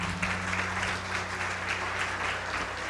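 A church congregation claps together in sustained, dense applause that stays loud and even throughout, with a low steady hum underneath and no distinct speech.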